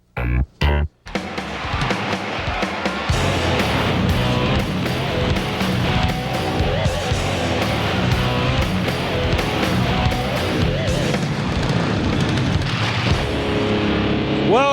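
Karts race on an indoor dirt track at the Indoor Kart Championships in Tunica, Mississippi, their engines making a loud, continuous droning whine that rises and falls as they pass, after a few sharp bursts at the start.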